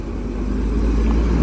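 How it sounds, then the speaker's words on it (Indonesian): A Damri executive class 2A bus pulls away close by, its engine a loud low rumble that holds steady for a brief moment. "Nah ini yang eksekutif 2A udah jalan ya."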